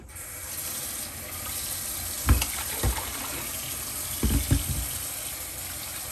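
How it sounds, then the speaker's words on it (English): Quinoa being washed in lukewarm water, a steady running-water wash with a few louder splashy swishes and sloshes as the grains are stirred and rinsed at close range. "washing the quinoa. And see how cloudy the water is?"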